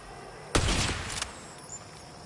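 Gunfire in the video game Borderlands 4 comes as a sharp, close burst of rapid shots lasting under a second, then fades into quieter background game sounds.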